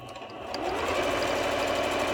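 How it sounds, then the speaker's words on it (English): A sewing machine runs steadily, stitching the bottom seam of a fabric drawstring bag at a quarter-inch seam allowance; a close, continuous whirring hum that picks up slightly after a brief start and carries on alone. "then sew the rest of the bottom seam and then up the other side"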